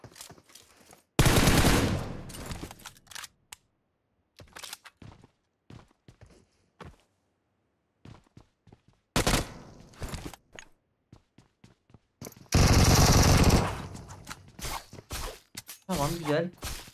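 Loud bursts of automatic gunfire from the PUBG Mobile battle royale game, several heavy volleys around scattered single shots and footsteps, with players talking over the action.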